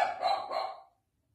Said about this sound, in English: My puppy is barking.